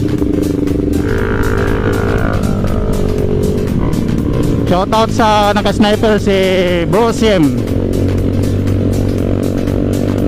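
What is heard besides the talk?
motorcycle with loud exhaust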